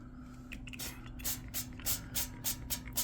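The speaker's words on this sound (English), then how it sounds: "spray the bottom of my air fryer." Cooking oil sprayed into the bottom basket of an air fryer, heard as a series of short, fairly close hissing spritzes repeated in a quick rhythm over a steady low hum.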